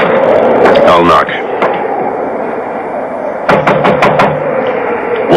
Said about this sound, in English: I'll knock.